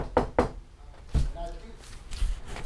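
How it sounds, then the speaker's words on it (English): Knuckles rap a shop door from outside, two quick close knocks and then a third heavier thud. Someone speaks briefly around the knocks. "I'm just gonna go knock on the door and see if he's here."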